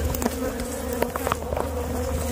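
Honey bees swarm around an opened hive heavy with propolis, a dense, continuous buzzing drone close to the listener, with individual bees zipping past now and then and no talk.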